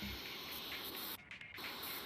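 Spray paint can releasing a clean, continuous hiss while painting graffiti outlines at high pressure, close and steady, with a brief dip in the spray near the middle.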